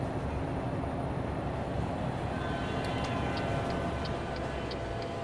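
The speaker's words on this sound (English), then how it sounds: "Freight train." A freight train passing in a trucking video game, a loud dense continuous rumble and clatter with faint rhythmic ticking clicks over the second half.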